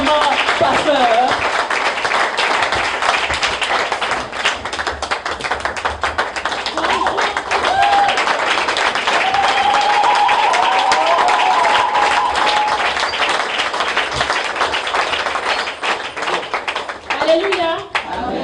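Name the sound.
church congregation applauding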